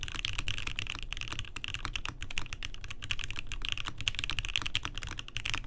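A KBDfans Taco 75 mechanical keyboard is typed on steadily and fast, a dense stream of close, crisp key clicks and clacks that carries on without pause and with no voices.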